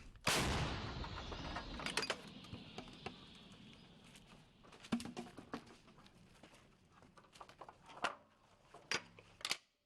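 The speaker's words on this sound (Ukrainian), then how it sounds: "Для ворога снарядів гармаші не шкодують. Постріл!" Heavy blasts from an artillery gun on a front line in Ukraine, one loud boom at the start followed by several sharper cracks and thuds over a low background.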